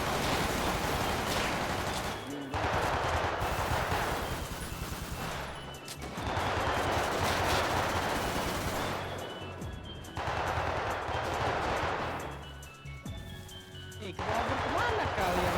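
Repeated bursts of gunfire in a Gundam mecha video game, with sustained firing runs separated by short gaps and a player voice chatting over the action.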